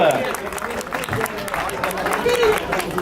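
Crowd applauding the women's podium at a prize ceremony for a 10 km road race in Castelsarrasin, steady clapping with background chatter and a few voices mixed in.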